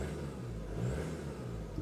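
A 1996 Toyota Hiace Super Custom G with a 3-liter turbo diesel and rear-wheel drive idles and revs in a steady, even drone, with a slight swell in engine speed partway through and no talk.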